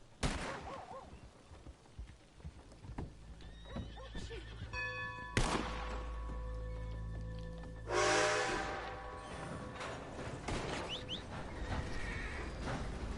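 A horse whinnies loudly amid Red Dead Redemption 2 game sounds near a train, with a sharp bang, rumbling and a brief musical tone; no talking.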